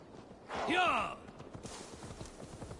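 A horse whinny rings out loudly for about half a second, then hooves clip-clop at a walking rhythm, soft and steady, in the video game Assassin's Creed Valhalla.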